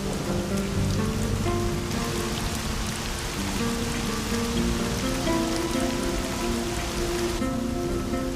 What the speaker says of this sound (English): In the desert oasis, the monsoon rains are a trickle at first.